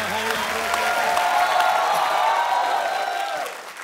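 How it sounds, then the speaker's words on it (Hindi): A studio audience on The Kapil Sharma Show breaks into loud, sustained applause and cheering to welcome Rishi Kapoor, a dense wash of clapping that holds steady for several seconds before tapering off. "प्लीज जोरदार तालियों से स्वागत करिए"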